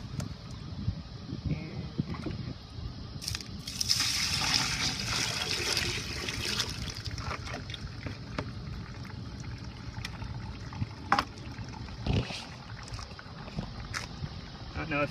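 Water poured into a container of worm castings trickles and gurgles faintly down through it, with a few louder splashy surges and scattered handling noises, while someone talks quietly.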